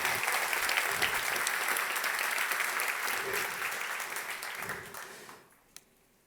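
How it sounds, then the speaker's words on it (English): Applause from a conference audience at a Kotlin programming conference, a dense sustained wash of many hands clapping that fades out near the end. "I think we should give a big round of applause to the Kotlin team"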